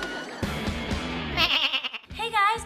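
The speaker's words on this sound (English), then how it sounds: "Let's watch another Murph the Goat clip." Cartoon goat bleating in wavering, nasal calls that come in two loud bursts near the end, following a stretch of animated character speech.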